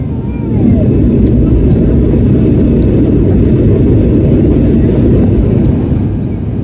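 An IndiGo passenger jet landing at Madurai heard from inside the cabin, a loud, steady broadband engine and air roar that fills the whole stretch without letting up.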